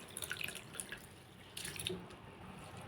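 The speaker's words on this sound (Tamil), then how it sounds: "ஊற வச்சு நல்லா அலசிட்டு" Raw rice soaking in a bowl of water is swished and rinsed by hand, giving soft intermittent splashes and trickling drips at close range, quiet throughout with a brief louder knock at the very end.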